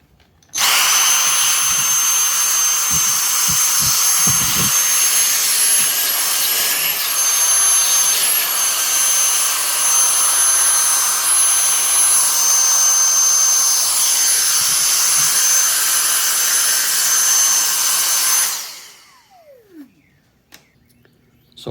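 A Dyson DC58 cordless vacuum modified with a Milwaukee M18 battery gives a loud, high-pitched motor whine for about eighteen seconds, then winds down and stops, with a few faint knocks near the start.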